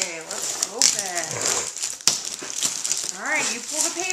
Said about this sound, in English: Alright, you pull the paper. Pull it right here.